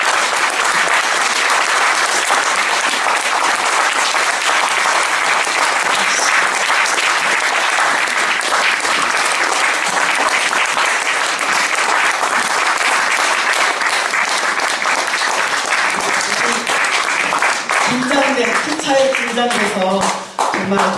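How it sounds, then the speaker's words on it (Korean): A concert audience at an amateur vocal society performance gives loud, sustained applause that fills the hall, dense, continuous clapping that keeps going throughout, with crowd voices mixed in. "박수로 한번 다 같이 부탁드립니다"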